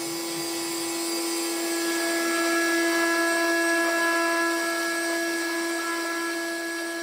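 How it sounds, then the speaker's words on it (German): A milling machine cuts frame parts for a miniature Unimog out of brass plates, giving a steady, high-pitched whining drone with strong tonal ringing that holds at an even level throughout, with no voices. "Und so werden aus den Messingplatten nach und nach die einzelnen Rahmenteile ausgefräst."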